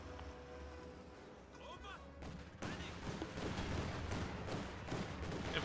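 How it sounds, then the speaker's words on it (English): Battle fire from an infantry support gun in Company of Heroes 2, quiet at first, then from midway a denser, louder spread of overlapping shots and blasts over a constant low rumble, with no talk. "Infantry support gun getting some shots off on the captain managing to dodge that."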